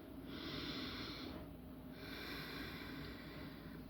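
Slow, deep breaths during a guided relaxation exercise: two long, soft airy inhalations or exhalations separated by a short pause, close and quiet with no talking.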